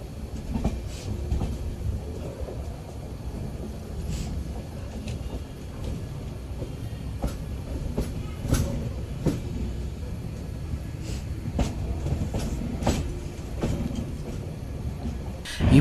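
Amrit Bharat passenger train running on the line after pulling out of Coimbatore, a continuous rumble of wheels with scattered rail clicks and clunks, steady and fairly close, no talk.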